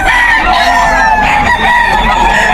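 A rooster, a cock, crows loudly and close at a Bocaue pet market, with repeated harmonic calls over a steady crowd murmur and other fowl in the background.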